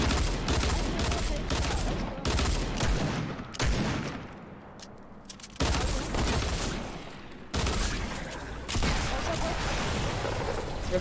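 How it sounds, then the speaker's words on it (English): Rapid bursts of gunfire in Fortnite as the player shoots at ice zombies, dense volleys of shots repeating in clusters over about eleven seconds with little pause between them. "Alright, I'm shooting the zombie thing."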